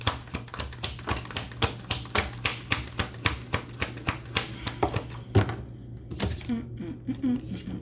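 A deck of tarot cards is shuffled in a rapid run of crisp riffling flicks, then cards are drawn and laid down with softer slaps and rustles, and a voice speaks briefly toward the end.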